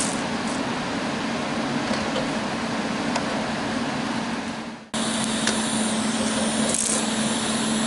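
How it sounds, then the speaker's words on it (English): Welding on small metal pieces of an Allosaurus dinosaur kit makes a steady, close crackling hiss. It breaks off briefly and then resumes with the same sputtering buzz. "Tack, check it, weld it."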